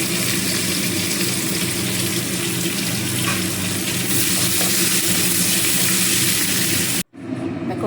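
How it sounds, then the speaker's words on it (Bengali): Onions fry in a pan with green chillies, tomato, ginger and garlic, giving a loud, dense, continuous sizzle up close that cuts off abruptly near the end, with no talking. "এবার পেঁয়াজটাকে লাল লাল করে ভেজে নেব।"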